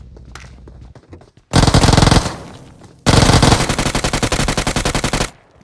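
Gunfire in a mobile battle royale game: a short dense burst of rapid shots, a brief pause, then a longer sustained burst of loud, evenly spaced automatic fire, close and with no talk.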